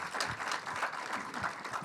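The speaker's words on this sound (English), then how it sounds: "Give her an applause" An audience at a festival talk claps for an introduced artist, a faint, brief patter of hand claps spread evenly across the moment.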